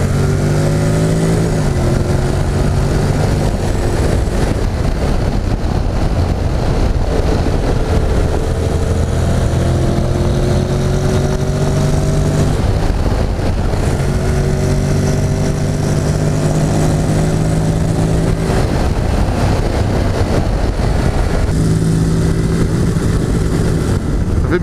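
A Honda X-ADV scooter engine revs hard again and again to its rev limiter at 7000 rpm, loud and close, with the rising whine breaking off at the cut each time.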